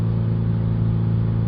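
A Toyota Auris 1.4 D4D diesel with a blocked particulate filter is held steady at about 3000 rpm, a loud, close, even engine drone with no talk.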